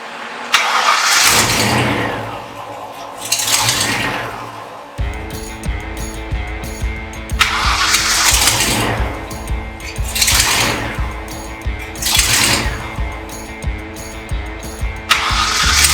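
A 1990s Ford Mustang engine starts in a cold Canadian winter, with a mass airflow sensor being tested. The engine catches and runs close by, with several loud revving surges and no voices.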